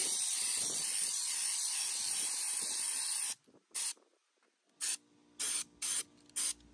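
Raptor liner coating sprayed onto a Tahoe outdoors in windy conditions, a loud continuous spray-gun hiss for about three seconds, then several short separate bursts of spraying with quiet gaps between them.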